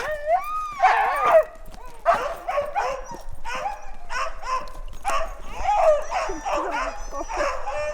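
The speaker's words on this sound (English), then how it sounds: "I think I heard the lead dogs and the other dogs, they're excited." Several excited sled dogs, Alaskan Huskies, bark, yip and howl together in an overlapping chorus, close and continuous, with whining cries mixed in.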